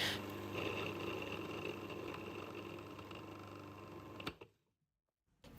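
A blender processes frozen strawberries for a strawberry ice cream, with a steady, loud motor whir that runs for about four seconds, cuts off into silence, then briefly starts up again.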